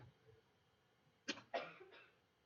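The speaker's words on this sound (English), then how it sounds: "No coughing in class" Two or three sharp coughs, fairly faint and set back in a quiet classroom during a math lesson, with short gaps between them.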